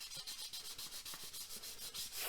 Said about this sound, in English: And then just go around and lightly sand up the edges.